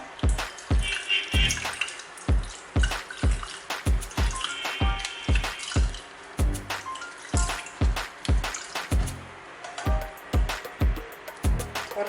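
Ginger and tulsi cough syrup liquid is poured through a sieve and squeezed, giving a close series of rhythmic drips and wet trickles with short pauses between squeezes.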